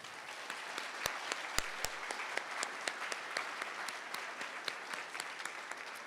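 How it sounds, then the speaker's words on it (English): Steady audience applause at a university nursing pinning ceremony, many hands clapping in a dense, even patter heard from a distance and fairly quiet, with no talk over it. "Let's give these students a round of applause."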